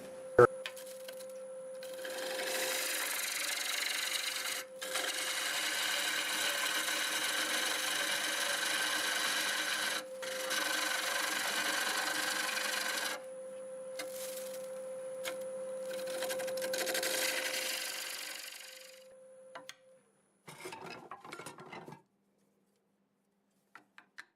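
Wood lathe with a 5/8 gouge turning a small cherry wood piece, a steady sustained scraping hiss over a constant motor hum, broken by brief pauses, then stopping before a few faint taps.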